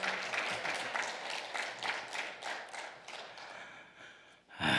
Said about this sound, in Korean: 박수로 환영하며 하나님께 영광 올려드립니다